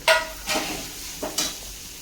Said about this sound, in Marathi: आता ही गोल्डन कलर झालेला आहे त्यात आपल्याला तीन कांदे कट करून घेतलेले टाकून घ्यायचे